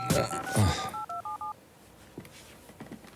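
A telephone is dialed, a quick run of about six electronic keypad tones after a short stretch of talk, followed by quiet room sound and a few faint clicks.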